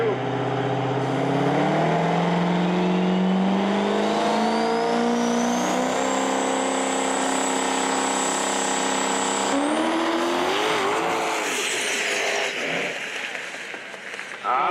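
A drag race truck launches hard off the starting line at a 2022 UCC event. The engine roars loudly and climbs steadily in pitch for several seconds before fading, with faint crowd noise and announcer talk underneath.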